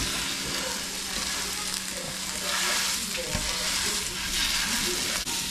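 Italian sausage log browning on a Blackstone E-Series griddle set to 450, giving a loud, steady sizzle throughout with a few faint clinks of a utensil against the flat top.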